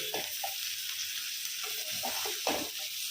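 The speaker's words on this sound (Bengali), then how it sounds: "এইগুলোকে আগে ভালো করে কষিয়ে নেবো তারপর পাতা দেবো" Fresh, tender Malabar spinach stems and pumpkin sautéing in a pan, a soft continuous sizzle with scattered stirring scrapes and knocks, fairly quiet and close.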